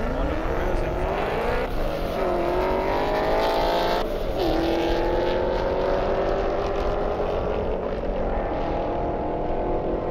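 Race car engine revving and accelerating hard down an airstrip at an Indy airstrip racing event, a loud, steady roar that climbs in pitch through repeated gear shifts, with wind noise throughout.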